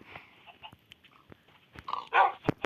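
A Minecraft wolf barks several times in short, sharp bursts, with the loudest yelps near the end, against a faint background.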